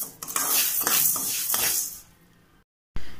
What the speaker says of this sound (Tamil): அடுத்தது வந்து செகப்பரிசி வறுத்துட்ருக்கேன்.